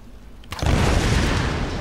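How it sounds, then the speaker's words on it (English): A sudden loud blast breaks a quiet backdrop, then a dense rumbling roar that keeps going without fading much, like a game explosion, from Tomb Raider (2013). "See, make explosions over there."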